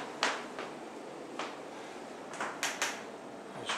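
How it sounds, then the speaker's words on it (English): A natural gas forced air furnace runs as a steady broadband whoosh inside a home, with scattered faint clicks and knocks over the constant airflow and no talking. "You may hear a noise in the background, which is the forced air furnace."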